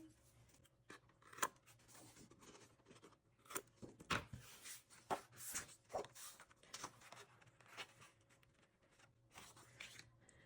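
Repeated sharp snips and crisp cuts of scissors through paper, irregular and close, with soft rustling and shuffling between cuts.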